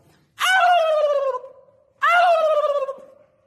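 A turkey gobbles twice, two loud, close, rattling calls of about a second each separated by a short silence, with no talk over them.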